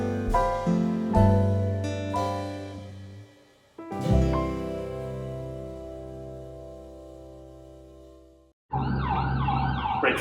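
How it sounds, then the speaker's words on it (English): Emergency vehicle sirens sound loud and close, with long wailing, sustained tones that stop and restart several times before a harsher, rapid yelp pattern begins at the end. "Break for sirens."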